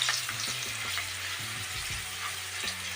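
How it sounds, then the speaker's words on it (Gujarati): Whole garlic cloves sauté in hot oil for a green onion curry, giving a steady, close sizzle throughout with faint stirring clatter and no talking. "તો લસણને આપણે તેલમાં સાતળી લેશું."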